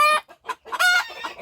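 White silkie chickens clucking inside a pen, a close series of short, loud clucks and calls from roosters and hens in rapid succession.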